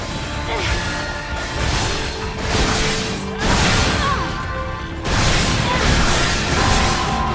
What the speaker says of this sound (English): Explosion detected in enemy abductor.